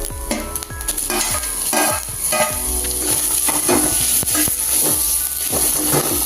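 Grated coconut and tomato sautéing in a pan, with steady sizzling under repeated scraping strokes of a spoon against the metal, close and unaccompanied by talk.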